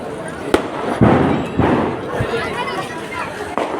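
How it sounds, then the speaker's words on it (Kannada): Firecrackers burst at a Deepawali village fair, several sharp loud pops at uneven intervals over a busy crowd murmur with people talking nearby. "ಪಟಾಕಿ ಸೌಂಡಿಗೆ ಮುಂದಕ್ಕೆ ಹೋಯ್ತಲ್ಲ ನೋಡಿ"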